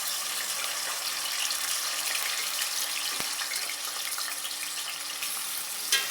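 Bitter gourd fries in hot oil with a steady, moderately loud sizzle and crackle, a sharp clink near the middle and a small knock near the end.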